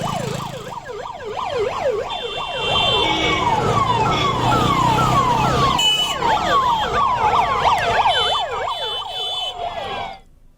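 Ambulance sirens wail in a funeral procession of sixteen ambulances, loud and close, with several overlapping rising-and-falling tones sweeping continuously over traffic noise.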